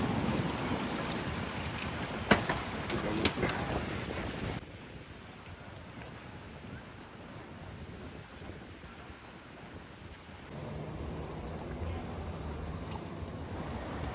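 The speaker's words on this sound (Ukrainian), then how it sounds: "Такі прогулянкові катери плавають." Steady wash of boat engine and water noise outdoors from sightseeing boats on an Amsterdam canal, with wind buffeting the microphone and a quieter stretch in the middle.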